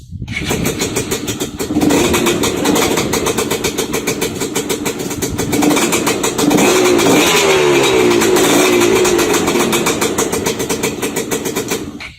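Kamax KMX 250 Chinese dirt bike engine fires up and runs loud and close, with a steady buzzing single-cylinder drone and throttle revs swelling through the middle.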